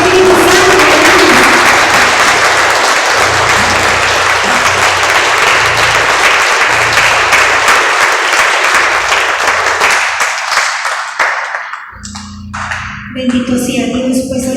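A church congregation applauds loudly in praise during a worship service, a dense sustained clapping that fades out near the end before a voice speaks.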